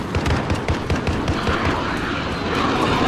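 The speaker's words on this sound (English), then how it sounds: "And a VTOL jet!" A VTOL jet flies through a noisy video game battle, its loud jet roar mixed with rapid popping blasts and explosions, close and continuous.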